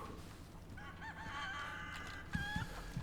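Chickens from the Resident Evil 4 video game call out in a series of short, bright clucks and squawks, with a louder burst near the end over a low game ambience.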